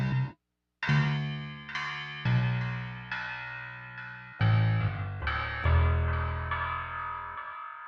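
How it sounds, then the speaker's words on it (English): Sustained low sampled grand piano chords, from an S950 sampler with reverb added, played one after another, each ringing out with a washy reverberant tail that blurs into the next. "And let's give it a little reverb."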